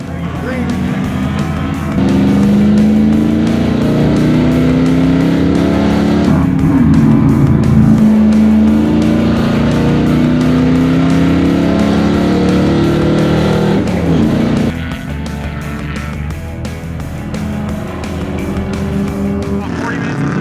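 A Dodge race car roars past on a race track, its engine note rising and falling loudly for a long stretch over steady track noise, with people talking throughout.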